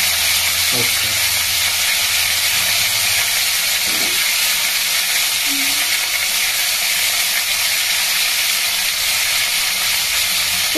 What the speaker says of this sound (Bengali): এবারে যে ফুলকপি সিদ্ধ করে রেখেছিলাম না, এটাকে ভাজতে দিয়ে দেবো